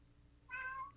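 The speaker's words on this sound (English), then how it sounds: "That's my cat." A pet cat in Ultima Online gives a single short meow, moderately clear, rising over a low steady background hum with no talking.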